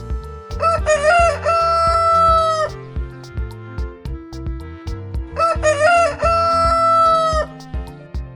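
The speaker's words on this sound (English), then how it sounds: "You got it right, it's the little rooster." A rooster crows twice, loud and close, each a long cock-a-doodle-doo, over a bouncy musical backing with steady rhythm.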